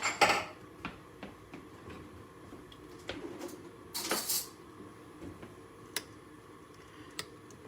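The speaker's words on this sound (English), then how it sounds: "I'm gonna mix together my 1/2 pound of sausage and 3/4 cups of salsa" Half a pound of sausage and three-quarter cup of salsa stirred together in a bowl, giving faint, sparse clinks and scrapes of a utensil at irregular intervals in a quiet room.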